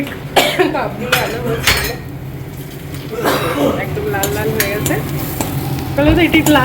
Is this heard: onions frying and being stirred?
yes